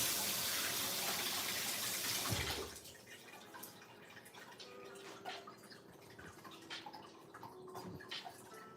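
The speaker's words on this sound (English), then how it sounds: "And I need to rinse this mug too." Tap water running into a sink to rinse a mug, a steady close gush that stops after about two seconds, followed by quiet drips, clinks and handling noises.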